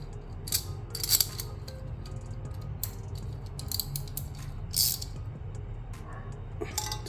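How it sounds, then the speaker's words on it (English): A 13mm socket wrench tightens the hood bracket bolts during a Genesis G70 carbon fiber hood install, giving short bursts of bright metallic ratchet clicks separated by quieter pauses. "So you can do hand tight and finish with 13mm socket wrench."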